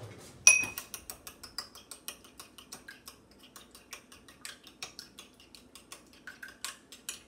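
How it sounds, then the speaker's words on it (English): An egg being stirred in a bowl with a utensil, a quick run of light clinking taps against the side, close and fairly faint, with one sharper knock near the start and no talking. "I had a thing to stir my egg up with"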